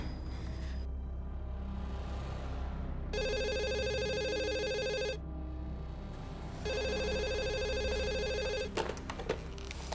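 A telephone rings in two long electronic bursts of about two seconds each, separated by a pause, loud and close against a low room hum, with a brief clatter at the end as if the handset is picked up.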